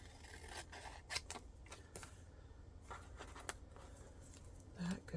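Scissors snip through paper while a collage desk placemat is assembled, a run of quick close crisp cuts and rustles with some soft talk mixed in.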